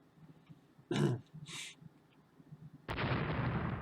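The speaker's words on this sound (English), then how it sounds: "there's 17-inch shells slamming into a freaking destroyer" 17-inch naval shells strike a destroyer in the naval strategy game Rule the Waves: two short muffled impacts, then a loud sustained explosive roar that holds through the end, with no talk.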